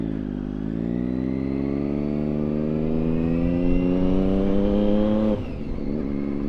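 A Triumph Daytona 675 motorcycle climbs an uphill road, its engine note rising steadily in pitch under load before abruptly dropping with a gear change, loud and close throughout with no talking.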